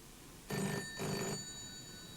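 An old telephone rings twice at dinner, two short bursts of bright metallic bell ringing close by in a quiet room, then a lingering hum, with no speech.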